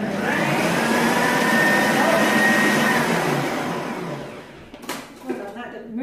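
A blender whirs steadily through a Danish marzipan cake mixture for about four seconds, close and loud, then cuts out and leaves a few clatters and handling knocks.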